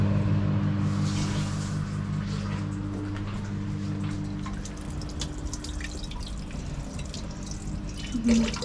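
Steady running water from a kitchen tap while a plastic bowl is washed, a continuous close splash and trickle with a brief louder burst near the end.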